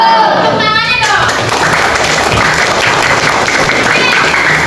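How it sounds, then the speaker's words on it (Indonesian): A classroom of children clapping their hands together in loud, sustained applause close by, with a voice briefly audible at the start. "Tepuk tangannya dong."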